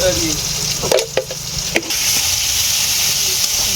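Food sizzles and fries steadily in a pan with turmeric just added, with a few brief scraping stirs partway through over a constant hiss.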